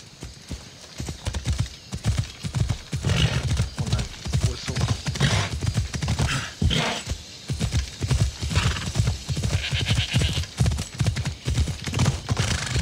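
A horse in the video game Assassin's Creed Odyssey trots with steady, close clip-clop hoofbeats throughout, with occasional neighs over other game sounds.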